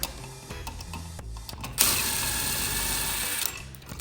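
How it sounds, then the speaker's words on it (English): A screw is backed out of an electrical box during recessed can light installation, a steady close mechanical whirring of a driver running for about two seconds after some quieter handling clicks and rustles. "I'm gonna pull this other screw out of this box here"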